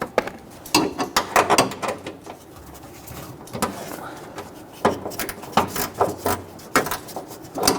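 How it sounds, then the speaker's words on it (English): A gear wrench ratchets bolts loose on a 2011–2015 Kia Sorento while the parking assist camera is replaced, giving quick clicking bursts with short pauses between, close and moderately quiet. "let's go ahead and grab our gear wrench"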